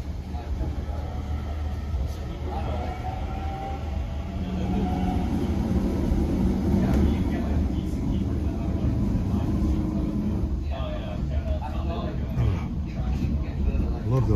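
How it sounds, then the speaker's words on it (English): An Irish Rail Class 8600 train bound for Bray rumbles past with a broad, steady roar of wheels and motors that swells midway, while a voice talks over it. "That train's headed for Bray."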